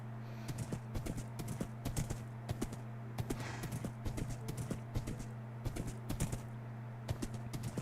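Horse hooves clip-clop steadily in Minecraft as a player rides, a fast regular rhythm of crisp, close hoof taps over a constant low hum, with no talking.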